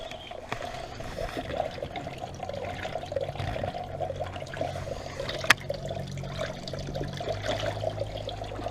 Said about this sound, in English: I'm gonna wash my hands in the hydroponics